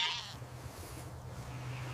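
Sheep bleating faintly in an outdoor rescue scene, a soft wavering call near the start over a steady low background hum, with no talking.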